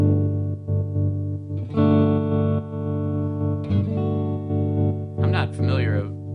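Electric guitar runs through a Catalinbread Semaphore tap tremolo pedal on its random waveform, sustained chords pulsing unevenly in volume, close and alone.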